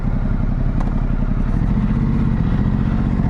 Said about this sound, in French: elle pétarade aussi un peu à la décélération, mais bon, ça c'est un peu sur toutes les Ducati.